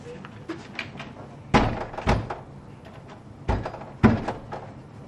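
A door is tried but won't open, giving a series of hollow thunks and rattles as it is pushed and pulled. Two groups of heavier knocks come about two seconds apart, close by.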